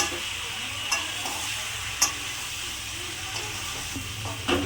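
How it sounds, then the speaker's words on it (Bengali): Chicken stir-frying in a pan with salt, turmeric and a little sugar gives a steady close sizzle and hiss, broken by a few sharp scrapes of stirring, with no voices. "লবণ দিলাম, হলুদ দিলাম, অল্প একটু চিনি দিলাম, করে কষিয়ে নেব।"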